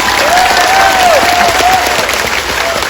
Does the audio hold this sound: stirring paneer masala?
no